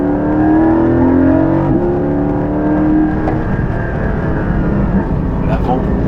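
A Porsche 718 Cayman in sport mode with sport suspension is driven hard into a corner, its engine droning loud and steady, with a strong low hum and tire and road noise. Someone speaks faintly over it.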